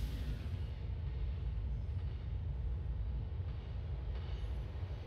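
A GTA IV subway train rolls steadily along the track, a continuous low rumble of wheels and carriage that stays close and even throughout, with no voices.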